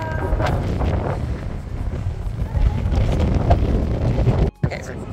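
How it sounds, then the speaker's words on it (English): Wind gusts at the Acropolis in Athens near the Temple of Athena Nike and the Parthenon, a steady loud rumble buffeting the microphone with a brief drop-out near the end. "It's a windy day out today"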